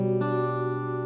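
A single acoustic guitar chord, the third of a progression in a song lesson, is picked and left to ring steadily and close for about a second, with no talk.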